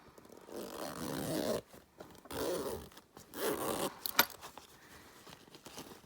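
Backpack zipper being worked along its track in several rasping pulls, separated by short pauses and ending with a small metallic click, close up with no talking.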